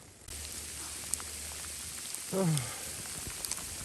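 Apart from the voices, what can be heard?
rain and sleet falling in the forest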